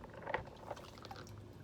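Water is poured and splashed in children's sensory water play, with a few quiet close splashes and trickles over a faint background and no talking.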